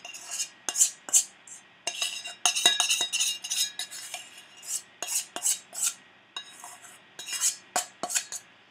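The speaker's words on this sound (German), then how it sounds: "Also ich nehme jetzt nur einen Löffel." A metal spoon spreads melted chocolate around a baking tin for a peanut butter bake, giving repeated close scraping clinks and taps in an irregular rhythm, with no one talking.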